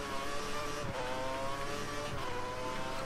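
Formula 1 cars from the F1 2013 racing game at the Australian Grand Prix, a steady buzzing engine drone holding a high pitch throughout, with a couple of brief gear-shift dips and no talking.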